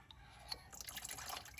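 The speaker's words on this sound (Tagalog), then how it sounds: "Meron din pa rin yung oil so may magde-drain pa rin dyan ng oil." Used CVT fluid drains from a Suzuki Swift GLX 1.2, faint liquid trickling and dripping into a catch container over a brief stretch, quiet and close with no talk.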